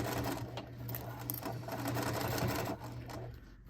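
A sewing machine basts a zipper in place on a zip wallet, a steady, close, rapid stitching chatter that runs continuously with a slight pause near the end.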